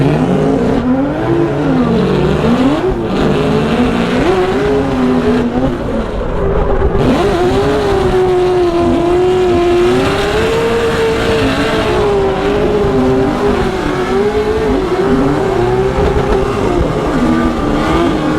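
A 2JZ-swapped BMW E36 drift car at Long Beach revs hard and continuously, its engine note rising and falling through sustained high-rpm pulls with a steady, loud roar throughout.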